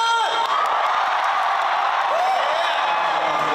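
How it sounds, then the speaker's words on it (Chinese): A concert crowd screams and cheers loudly during a song performance, a dense, continuous roar of shrieks and whoops filling the space without a break. "尖叫声！"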